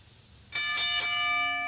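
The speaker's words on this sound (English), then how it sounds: "I hate these fucking bells." Bells in the puzzle adventure game Chants of Sennaar ring out in three quick, bright, loud strikes, each leaving a clear sustained ringing tone that hangs and slowly fades.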